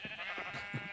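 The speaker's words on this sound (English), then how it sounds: "Why are there so many pink sheep?" Pink sheep in the Minecraft video game bleat in a few short, faint wavering calls, close together, with no talk.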